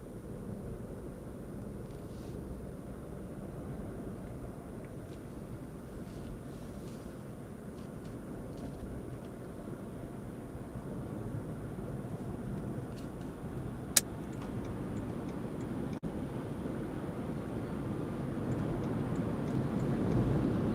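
A BMW i3s electric car cruising at 130 km/h on the motorway, a steady loud roar of wind and road noise that swells slightly toward the end, with a brief sharp click partway through.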